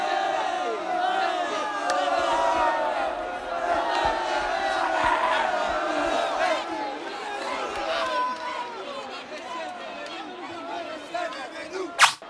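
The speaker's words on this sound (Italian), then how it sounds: "dopo aver ascoltato il tifo del Pertini Fermi" Crowd of school students cheering and chanting at a Telethon 2009 event in an indoor sports arena, a loud sustained roar of many young voices throughout, with a sharper burst near the end.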